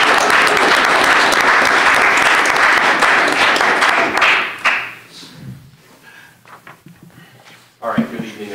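Applause from the audience at a school district board meeting, dense and loud for about four seconds before fading into scattered claps and light room noise, with a brief thump near the end.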